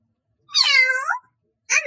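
A person imitates a cat, giving two meows: a long, clear one followed by a short one after a brief pause, close and loud with no background noise.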